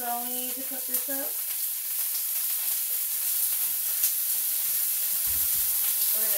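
Chicken tenders frying in extra virgin olive oil in a pan, a steady close sizzling hiss running throughout, with a brief voice near the start.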